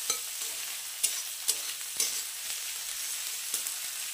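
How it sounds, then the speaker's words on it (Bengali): Onion frying in a pan makes a soft, continuous sizzle, broken by sharp spatula taps and scrapes at irregular intervals of roughly half a second to a second, heard up close without talk. "পেঁয়াজটা একটু ভাজা ভাজা হোক"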